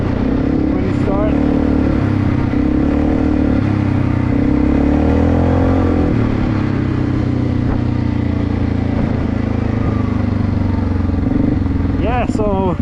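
A Segway Snarler AT5L ATV's engine drones steadily as the machine pulls away, with a loud, continuous low rumble and shifting pitch, while people talk over it.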